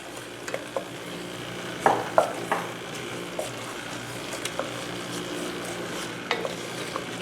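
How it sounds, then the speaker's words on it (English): Tomatoes and chopped green onion are stirred in a pot for a Cajun crawfish bisque, with soft scattered scrapes and a few louder knocks over a steady low sizzle. "We'll just stir this for a minute or two."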